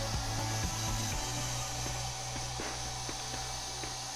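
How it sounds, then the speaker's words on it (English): A handheld hair dryer blows in a steady close whir with a low motor hum, drying acrylic paint on a model M4A3E8 Sherman tank, with faint clicks and handling noises underneath. "let me grab my handy hair dryer. And we're just going to dry this sucker off real quick"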